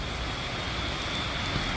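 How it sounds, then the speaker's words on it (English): Steady rain hisses evenly throughout, a constant broadband patter with no pauses. "if it'll just stop raining"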